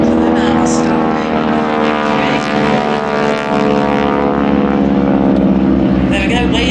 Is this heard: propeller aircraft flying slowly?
yes